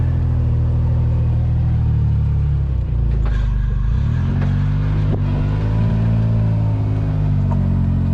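Pickup truck engine rumbling loud and close as it drives slowly into a shop, with a steady low idle, a brief easing of the throttle around the middle, then a renewed deeper drone.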